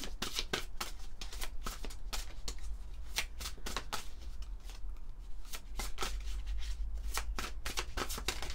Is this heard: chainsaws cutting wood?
no